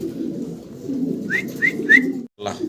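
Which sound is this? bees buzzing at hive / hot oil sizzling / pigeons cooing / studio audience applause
pigeons cooing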